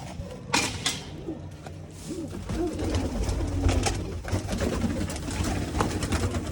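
Pigeons coo softly and repeatedly close by, mixed with flutters, light creaks and a dense background murmur.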